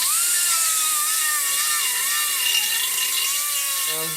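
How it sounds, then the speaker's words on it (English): Continuous high, wavering whine of a die grinder with a grinding stone on a 3-inch extension working copper, its pitch drifting up and down as the load changes. "I've got a die grinder with a 3-inch extension on the end, a grinding stone."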